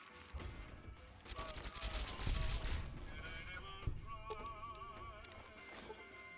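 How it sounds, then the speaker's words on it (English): Inside a casino in the game Fallout: New Vegas, a grenade blast and a rattle of gunfire erupt in a dense, chaotic mix, with a low boom midway, while game music and tones play underneath. "I see that one of the chairmen throws a grenade"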